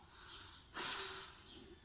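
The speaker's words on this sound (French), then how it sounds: "quand tu expires par le nez pour faire ce soufflet" A forceful bellows-breath exhale through the nose during a children's yoga session: one sharp, hissy nasal blast rising out of soft background breathing, fairly close and quiet, fading over about half a second.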